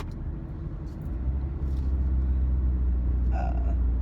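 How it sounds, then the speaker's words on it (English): A truck with a bad exhaust rumbles low and steady in traffic just ahead, its deep drone swelling louder after the first second and holding on without a break. "I have a truck in front of me with a bad exhaust"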